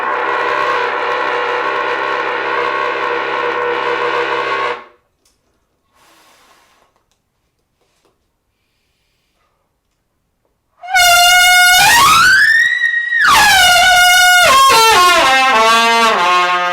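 A loud horn blares continuously for several seconds, then falls silent, followed by two bursts of rising and falling honking tones close to the microphone.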